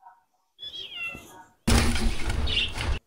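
A Persian cat gives a short meow, followed by a louder burst of broadband noise, close to the microphone.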